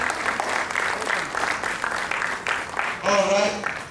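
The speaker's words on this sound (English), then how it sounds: "A bigger round of applause." Applause from the audience at a sickle cell foundation event, steady clapping of moderate loudness for about three seconds, with a voice speaking over the end.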